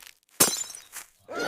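Toy dinosaur egg hatching, its shell cracking open with a sharp brittle snap and crunch, followed by a smaller crackle and a further rustling break, close and bright without talk.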